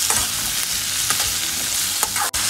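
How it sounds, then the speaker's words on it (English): Chopped onions sizzle steadily in butter and oil while a spoon stirs and scrapes through them, with loud continuous frying noise and a few sharp scraping strokes, for a butter chicken gravy. "Cut the onion, mix it around a little bit so that it gets covered properly."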